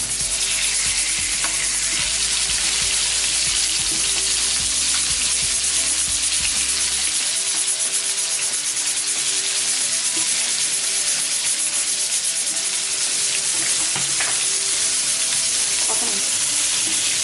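Fish pieces for fish biryani being turned while frying in hot oil in a pan give a loud, continuous sizzle and crackle that runs unbroken through the whole stretch, with no voices over it.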